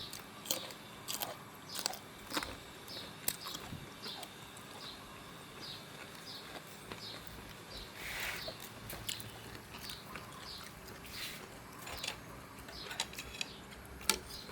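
Fresh vegetables eaten with a frog chili dip are bitten and chewed up close, giving crisp crunches in an irregular rhythm with quiet pauses between bites.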